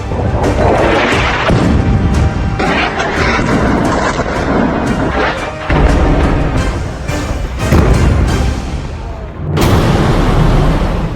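Loud, continuous barrage of explosions and heavy bombardment from war footage of Iran–US and Israeli strikes, dense booms and rumbling blasts overlapping throughout with a sharp new blast near the end.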